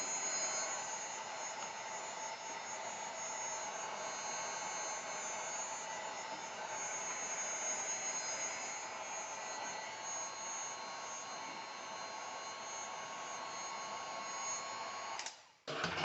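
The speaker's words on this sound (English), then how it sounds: "Set the heat gun down." A heat gun runs steadily and close by as material is heated during a solar panel install on a Scamp trailer, giving a constant breathy whir that cuts off abruptly near the end.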